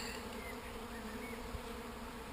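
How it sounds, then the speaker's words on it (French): Honeybees hum in a thick, constant swarm at a hive, the buzzing fairly soft but unbroken throughout, with occasional individual bees passing nearer. "Et autant d'abeilles qui essaient de rentrer dans la ruche."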